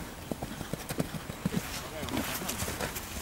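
A horse's hooves clip-clop in a steady walking rhythm at an outdoor cross-country riding session, moderately close, with people talking over the hoofbeats throughout.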